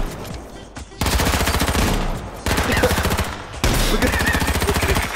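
Automatic gunfire in the battle royale game H1Z1, three loud, close bursts of rapid repeating shots separated by brief pauses, with a voice speaking briefly.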